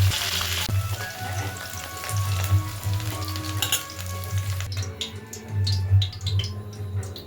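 Cauliflower florets frying in mustard oil for an Itu puja khichuri, a steady close sizzle with scraping stirs throughout and a low hum underneath; the sizzle drops quieter near the end while stirring clicks continue.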